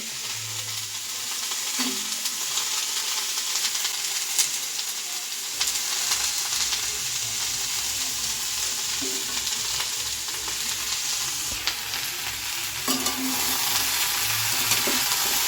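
Vegetables frying in a pan give a soft, continuous sizzle throughout, with occasional faint clinks and low thumps, no voices.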